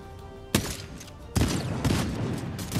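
Gunfire in the Fortnite video game: two sharp, loud bursts of rapid shots, the second longer and followed by more scattered shooting.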